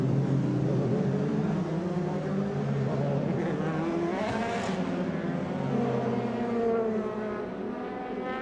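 FIA Formula 3 race cars weaving side to side to warm their tyres during qualifying at the Norisring, a blended roar of several engines revving and passing, rising and fading in pitch.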